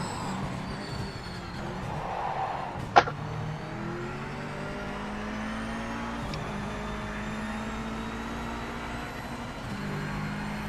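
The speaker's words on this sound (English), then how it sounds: "Yeah, over-revved it again." A race car engine in Project Motor Racing drones steadily at high revs with rising and falling pitch sweeps, a sharp click near three seconds, and a steady in-car rumble throughout.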